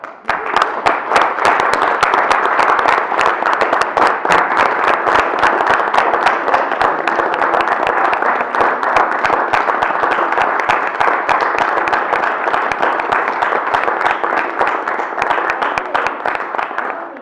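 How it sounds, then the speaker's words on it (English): Sustained audience applause at a city council meeting, dense steady clapping from a crowd that holds loud and even for the whole stretch without pause. "Let's give this young lady a big round of applause."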